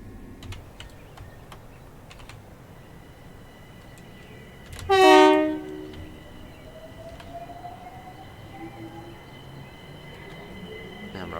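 A Class 378 electric train on the North London Line pulls away in Train Simulator Classic, with scattered keyboard clicks, one loud tonal horn-like blast, then a faint rising motor whine as it gathers speed.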